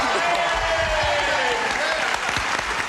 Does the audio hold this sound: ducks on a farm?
no